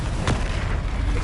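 A Confringo explosion spell in a video game, a dense roaring burst with a sharp crack near the start and a sustained rumbling wash through to the end.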